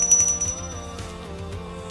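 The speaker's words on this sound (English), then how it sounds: "they're like a little bell in case I have a speech" A small bell on a name card holder at a Christmas-decorated apartment table gives a few quick, bright high rings at the start, over a steady bed of tonal background music.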